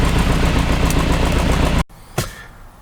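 An Austin Mk1 fitted with an Arden 8-port head runs steadily at idle with a loud, even rumble. It cuts off abruptly near the end, leaving a brief knock in the quiet.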